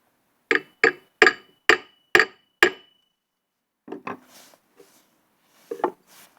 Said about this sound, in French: On va prendre le marteau.